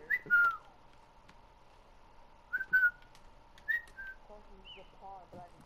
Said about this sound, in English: someone's whistling inside the freaking forest